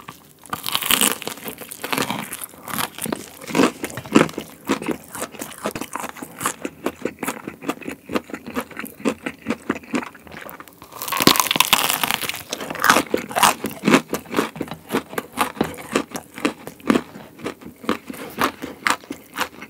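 Someone eats a crunchy fried ramen snack and a corndog, giving close, loud bites and rhythmic crunching and chewing that repeat steadily, with a burst of crinkling midway, no talk.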